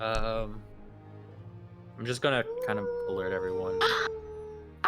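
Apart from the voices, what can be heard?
dog barking or howling in the room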